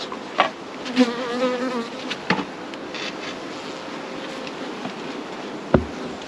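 Honey bees buzzing around an open hive during an inspection, a steady moderate drone with individual bees passing close by, plus a few soft knocks and rustles, no talk.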